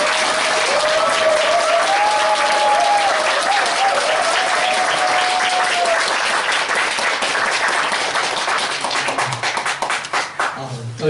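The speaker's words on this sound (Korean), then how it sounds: "지금 이렇게 나오실 때 크게 좀 박수해 주시고요" A congregation at a joint police Christian mission worship service in Incheon applauds a pastor coming forward, with sustained loud clapping for about ten seconds and a voice speaking over it early on.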